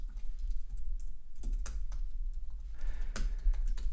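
Keystrokes on a computer keyboard tap out in an irregular stream of light clicks, close and fairly quiet, with no voices and a low steady hum underneath.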